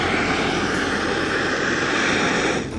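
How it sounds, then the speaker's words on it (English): A Primus OmniFuel camping stove burning LP gas gives a steady, loud, close roar that holds unchanged for a few seconds before it eases slightly near the end. "You just open the two valves and light the stove."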